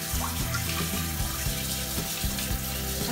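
Steady running water from a sink tap rinsing shellfish, a continuous close splashing rush with no voices.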